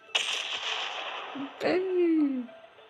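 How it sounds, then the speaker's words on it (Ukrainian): A sharp blast erupts with a hissing burst, then a second crack follows by a descending whistling tone, an explosion effect from the planet-destruction game Solar Smash. "Вибух який"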